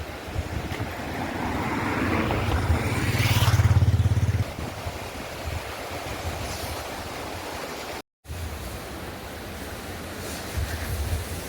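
Steady broadband rush of a clear-water stream near Paro, loud and continuous throughout, with a gusty swell early on and a brief dropout near the end.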